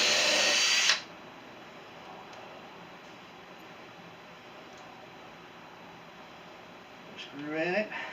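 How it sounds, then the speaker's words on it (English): A power drill pre-drilling a hole in a wooden table gives a loud, short whirring burst that stops abruptly, then near-quiet, then a brief revving whine close by at the end. "Give it a quick pre-drill."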